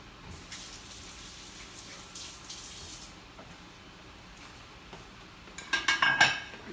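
Tap water running steadily into a sink as hands are washed in an indoor arts session, a soft continuous stream ending with a few louder splashes and clinks.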